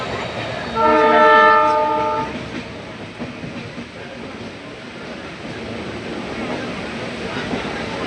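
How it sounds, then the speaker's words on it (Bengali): A moving passenger train heading toward Kharagpur sounds a loud, sustained horn for about a second and a half near the start, then runs on with a steady rolling rumble of wheels on track, heard from on board. "ট্রেনটা ছুটে চলেছে ট্র্যাকের ওপর দিয়ে।"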